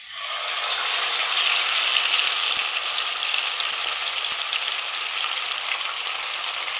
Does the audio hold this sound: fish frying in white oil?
yes